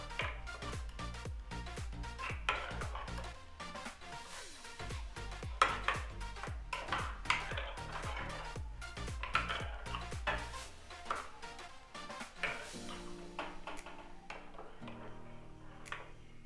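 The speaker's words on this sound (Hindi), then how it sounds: "अब इसको हम अच्छे से मिक्स कर लेंगे।" A spoon scrapes and clinks rhythmically against a bowl while mixing boondi raita with spices, with close, repeated stirring taps continuing steadily throughout.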